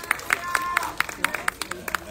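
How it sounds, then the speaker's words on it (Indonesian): An audience at a film premiere for the horror film Tumbal Darah claps in a quick, even rhythm, the sharp claps close and steady with a faint murmur of voices underneath. "Tepuk tangan dong untuk Rania teman-teman."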